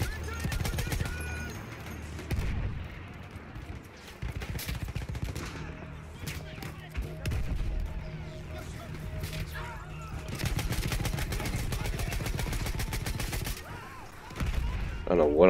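Automatic gunfire rattles in a first-person shooter game, coming in repeated bursts of rapid shots with short gaps between them and fairly loud, mixed with in-game sounds.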